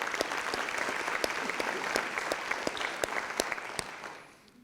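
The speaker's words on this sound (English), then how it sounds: "So let's give NDI a big round of applause," An audience at a county oath-of-office ceremony applauds NDI, giving a full, continuous round of clapping with sharper individual claps that stand out, then tapering off at the end.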